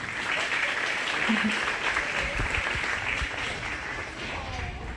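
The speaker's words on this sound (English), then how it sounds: "Give her a round of applause." Steady crowd applause fills the whole stretch at a 4-H/FFA goat show, dense clapping from many hands with a voice or two faintly mixed in.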